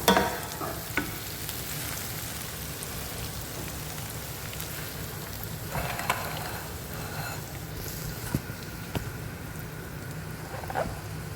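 Sauce of garlic, tomato and spices cooking in a pan crackles in a steady rain-like sizzle, with occasional stirring clinks and scrapes close by.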